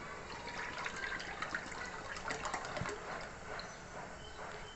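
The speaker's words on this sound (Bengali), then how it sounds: "এবার আমি ক্যারট মিল্ক ঢেলে নিচ্ছি" Carrot milk is poured into a pot in a steady, faint liquid stream with a light continuous splashing gurgle and a few small drips, no voices.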